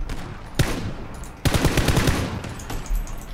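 Automatic gunfire from a rifle in PUBG: Playerunknown's Battlegrounds, with a single loud shot followed by a rapid burst of repeated shots, then a trailing later report, close and loud with no talking.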